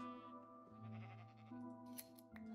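A crowd of sheep in a modded Minecraft world bleating one after another, close and clear, with a faint snip partway through and light background music throughout.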